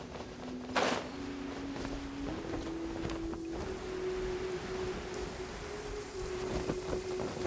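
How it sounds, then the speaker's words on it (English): Steady rain falls across a Genshin Impact game scene near the Blackcliff Forge, a continuous soft hiss with a sustained tonal hum running underneath and a brief louder burst near the start. "It's raining again?"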